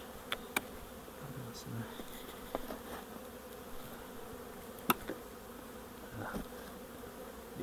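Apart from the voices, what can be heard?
bees buzzing at beehives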